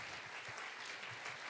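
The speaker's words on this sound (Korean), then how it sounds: "여러분 들어가실 때까지 큰 박수로 환영의 박수 부탁드립니다." Quiet, distant applause from a congregation at a Korean church youth worship service, a continuous even rustle of many hands clapping with no voices over it.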